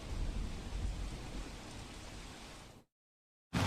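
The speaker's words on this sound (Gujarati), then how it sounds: "સુરત જિલ્લામાં છેલ્લા બે દિવસથી ધોધમાર વરસાદ વરસી રહ્યો છે" Heavy monsoon rain pours down in flooded Surat district, Gujarat, as a dense, low rushing roar that runs for almost three seconds, drops to sudden silence and then returns abruptly.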